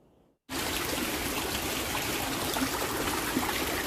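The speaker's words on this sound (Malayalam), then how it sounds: "ഇവിടെ ഒരു ചെറിയൊരു കൈത്തോടും ഉണ്ട് കേട്ടോ." A small stream runs through a cardamom plantation. After a brief quiet start, a steady, close trickle of flowing water continues unbroken.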